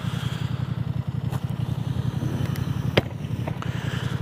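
A Honda Transalp 750 motorcycle idles nearby, its engine putting out a steady low pulsing thrum with an even rhythm, plus a few faint clicks and scrapes over the top and no one speaking.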